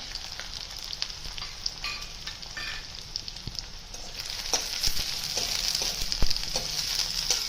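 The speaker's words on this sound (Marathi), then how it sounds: "हे चांगलं परतून घेऊया" Onion, capsicum and green chilli sautéing in a pan for cabbage manchurian: a steady soft sizzle runs throughout, with scattered clicks and scrapes of stirring that grow busier toward the end.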